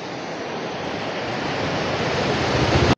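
Fast-flowing river water rushes in a steady, dense roar that swells slightly louder toward the end before cutting off abruptly, with no voices present.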